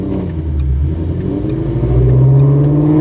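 Shelby GT350 with a flat-plane-crank V8 idling with a deep burble, then a short throttle blip swells the engine note near the end, close and loud.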